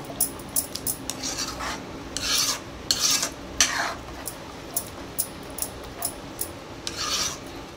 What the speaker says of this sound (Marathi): 1 चमचा लाल तिखट टाकूया आणि आता हे मिक्स करून घेऊया